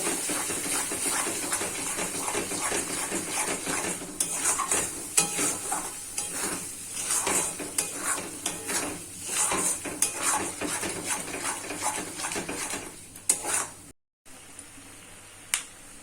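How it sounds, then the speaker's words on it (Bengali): Spices with turmeric, salt and a little sugar are stirred and fried in a pan for potol chingri, with steady sizzling under repeated clinks and scrapes of a spoon against metal. "একসাথে ভালো করে মশলাটাকে কষিয়ে নেব।"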